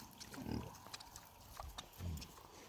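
Pigs on a farm eating scraps, with low grunts and snuffling that swell in two louder bursts over a quiet background.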